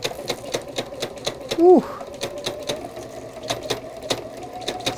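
A sewing machine stitches down part of a fidget quilt in a quick, even run of needle clatter, with a brief exclaimed voice partway through.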